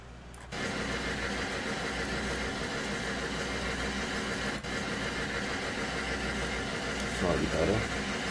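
A diesel engine rumbles steadily after starting up, a constant low idling drone with a brief dip partway through and a faint voice near the end.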